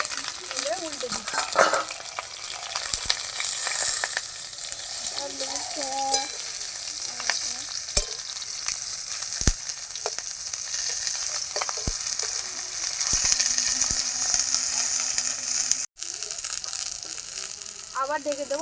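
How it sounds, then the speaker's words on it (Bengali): Rui fish wrapped in pumpkin leaves sizzles in a wok, a steady close frying hiss with occasional scrapes and stirring clinks and a few faint voices in the background. "সবগুলো বেঁধে নিলাম, এবার এগুলো কড়াইতে রান্না করে নেব।"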